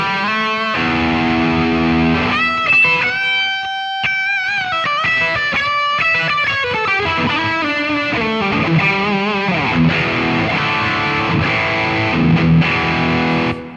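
An electric guitar through an overdrive pedal into a Boss Katana amp plays distorted notes and chords with sustained, gritty tone and audible hiss, loud and alone without any voices.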